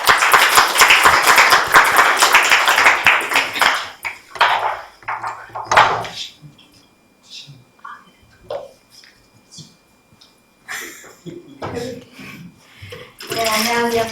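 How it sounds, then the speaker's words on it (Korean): A university lecture audience applauds to welcome a speaker, with a loud, dense burst of clapping for about four seconds that quickly dies away, followed by quiet room sounds, a few light clinks and speech. "홍다혜 선배를 박수로 맞아주시길 바랍니다."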